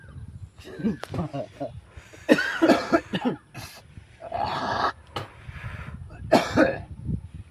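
A person coughs in several harsh, close bursts and clears their throat, with spoken words mixed in between the coughs.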